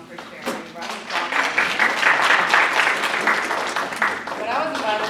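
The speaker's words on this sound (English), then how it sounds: "Round of applause." A student leadership workshop audience breaks into a round of applause that starts sparse, swells into dense clapping, then tapers slightly while continuing.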